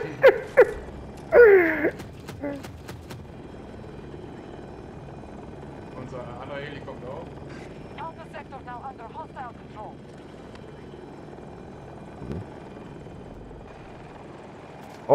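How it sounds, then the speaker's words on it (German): Attack helicopter in an online military video game, rotor drone held low and steady under several brief gunfire-like bangs and clicks near the start, with a player talking now and then. "Oh, Heli kommt auf uns zu, von ganz oben."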